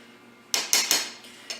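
A utensil clinks against a dish while pepper is mixed into flour, giving four or five sharp, close taps in an uneven rhythm with no talking.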